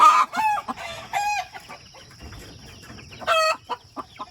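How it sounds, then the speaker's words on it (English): Hens, including a broody hen, cluck loudly and close by in a coop, with several sharp, repeated calls in bursts and quieter scratching and rustling between them. "Now she's introducing herself to the spring chickens."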